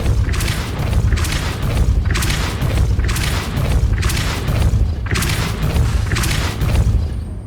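Repeated Confringo and Depulso spell blasts in the Hogwarts Legacy video game, a series of loud booming impacts roughly every second with rumbling low end and bursts of crackle, steady and continuous throughout.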